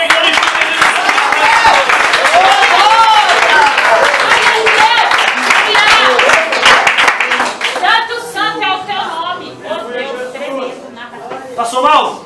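A church congregation claps together at a lively service, rapid loud clapping with shouting voices over it, then thinning into scattered claps as a voice keeps speaking.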